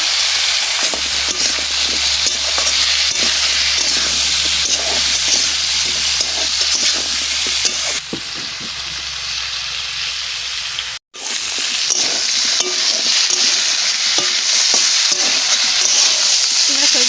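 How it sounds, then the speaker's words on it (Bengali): Drumstick pieces and potato fry in spiced oil with salt and turmeric, a loud, continuous close sizzle with stirring scrapes that briefly cuts out near the end before resuming. "ভাজা হয়ে গেছে সবজি আর আলু ভাজা হয়ে গেছে"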